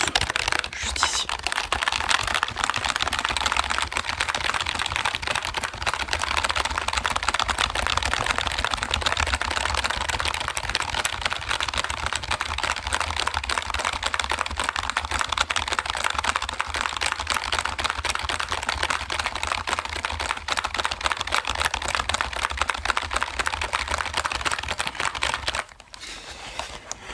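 Fast, steady typing on a computer keyboard, close and crisp, with dense overlapping key clicks continuing throughout and a brief pause near the end.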